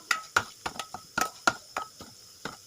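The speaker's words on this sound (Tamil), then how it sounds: "ஸோ கேஸ் ஸ்லிம் பண்ணிவிட்டு அதை நல்லா வதக்குங்க." Masala with coconut oil is stirred in a pot for curd-based moor kolambu, giving a quick series of sharp scraping clinks of a spoon against the vessel, about a dozen irregular strokes with no voice.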